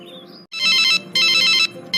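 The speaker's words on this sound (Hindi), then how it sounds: "मैं अभी फोन लगाती हूँ।" A telephone rings during an outgoing call, giving two loud electronic ringtone bursts with a short pause between them, close and clear, after a brief rising tone. No one speaks over it.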